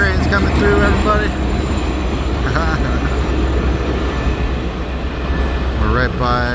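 A train rumbles past along the coastal trail by Westchester Lagoon in Anchorage, Alaska, a loud steady roar filling the whole stretch, with a person talking over it.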